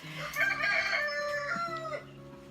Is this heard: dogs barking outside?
no